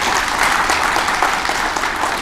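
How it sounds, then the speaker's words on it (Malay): An audience claps at a launch ceremony for an undergraduate trainee engineer placement program, dense continuous applause, loud and even throughout. "Berikan tepukan pada mereka yang hebat ini."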